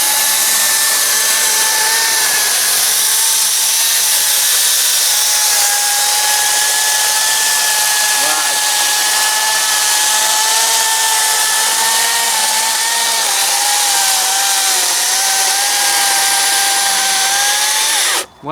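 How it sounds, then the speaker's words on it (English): An electric chainsaw fitted with a brand-new chain cuts through wood in one continuous, loud, steady whine with a high motor tone and no break, and it cuts off sharply at the very end. "This is a bit of a big task for a little chainsaw like this"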